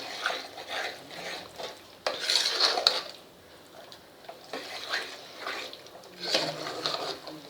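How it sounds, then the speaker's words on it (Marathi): Green peas sauté in spice masala in a pan, with a soft sizzle under repeated scraping and clinking of a spoon against the metal in uneven bursts. "हे बघा आपले वाटाणे मस्त इथे परतले जात आहेत मसाल्यात"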